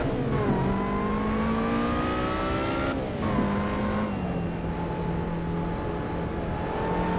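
Racing car in the Assetto Corsa game braking hard and sliding out through a turn, engine tone dropping in steps with a sustained tire squeal, loud and close with no talk.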